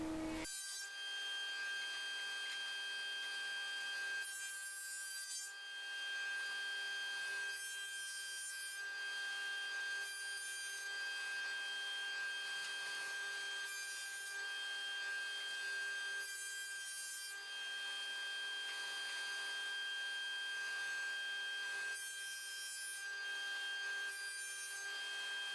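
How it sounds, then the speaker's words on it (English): Thickness planer feeding wooden boards through, planing them down toward three-quarter-inch thickness for a foot stool; a sustained high machine whine with repeated bursts of rough cutting noise as boards pass, spaced every few seconds. "You'll be finished planing your boards when all of them are planed down to 3/4 of an inch thick."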